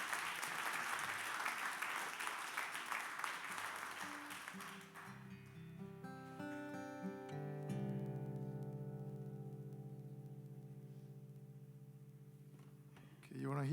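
A concert audience at the Holy Comforter Concert Series gives dense applause for a guitarist, which fades out after about five seconds. Plucked guitar notes then ring out clearly and sustain, decaying slowly under a quiet room.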